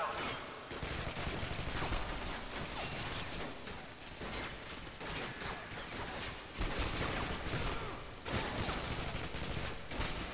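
Call of Duty Modern Warfare 2 gunfire rattles in dense, sustained automatic bursts from several weapons, loud and continuous with short breaks between volleys.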